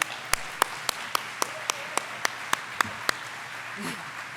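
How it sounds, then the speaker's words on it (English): Applause at a women's fund luncheon, dominated by one person's loud, evenly spaced claps near the microphone over a faint crowd, stopping before the end as a voice begins speaking. "you're clapping for Bob"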